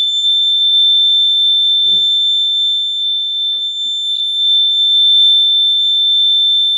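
An electronic temperature buzzer wired on a 12-volt circuit with a diode sensor sounds a steady, piercing high-pitched tone throughout, loud and close, with only a faint click or two beneath it.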